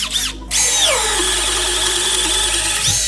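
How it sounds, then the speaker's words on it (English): A Milwaukee M12 FUEL cordless drill with an auger bit whirs up after a brief pause and runs steadily under load, a loud continuous whine with shifting pitch as the bit bores in. "Now we'll show you the new M12 FUEL drill."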